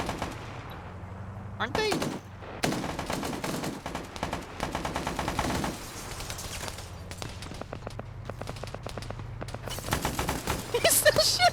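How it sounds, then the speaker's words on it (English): Bursts of gunfire in a military video game PvP match set in an invasion of Greenland, including heavy .50 cal fire, crackle in rapid volleys throughout, with a voice commentating over the shooting. "He's still shooting."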